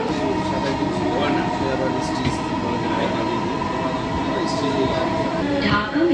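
A Dhaka metro train rumbles steadily along the track in a continuous, fairly loud hum, with faint rattles and brief clicks riding over it and no break in the sound.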